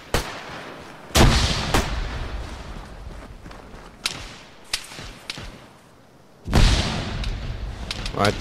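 Gunfire in ArmA 3 on a Takistan map, with sharp cracks and thumps going off at irregular intervals, some close and loud, others more distant, over steady background noise.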